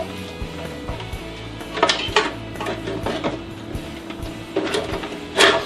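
A plastic lid being worked onto a food processor bowl during crab cake prep, with scattered clicks, clacks and rattles that bunch into a few sharper bursts near the end.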